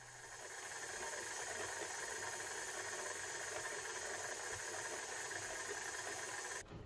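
Stand mixer kneading sandwich bread dough, a steady, faint motor whir with hiss that runs evenly for several seconds and cuts off abruptly at the end, no talking.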